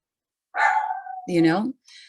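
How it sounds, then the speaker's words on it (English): Dog barking in the background of a home during an online council meeting: two short barks and a brief yip, fairly close and clear, with no talk over them. "Pardon the dog in the background."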